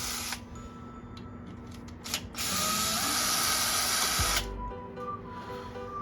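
A power tool loosens the 4mm Allen bolts holding a Momo steering wheel to its hub on a Datsun Roadster, a steady close whirring burst that runs for a few seconds between short tool taps and clicks.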